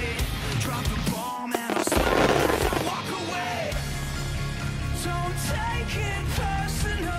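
Fireworks go off at a 4x8 board pyrotechnics competition show, a dense roar of bursts and crackles over background music, with a louder blast about two seconds in.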